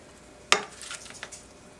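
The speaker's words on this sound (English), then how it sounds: "Next, we're going to add our butternut squash and walnuts that we've roasted in the oven." Roasted butternut squash and walnuts tipped into a bowl of quinoa: a sharp clatter as the pieces land, followed by a few softer scattered taps and rustles up close.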